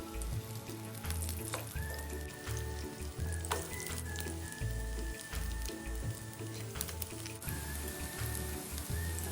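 Tapioca and chive fritters sizzle steadily in a hot frying pan, a dense crackling hiss with scattered sharper pops and a few faint clinks, continuous throughout with no talking.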